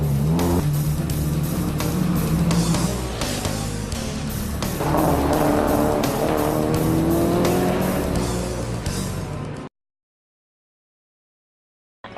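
A Mazda RX-7 drift car at a street drifting event roars loudly with a high rotary engine howl and continuous tire squeal, revving and sliding without pause before the sound cuts off abruptly.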